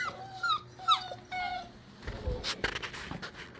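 Puppies whimper close by in a series of high, thin cries and squeaks, several short whines in quick succession, followed by shuffling and soft scuffing sounds.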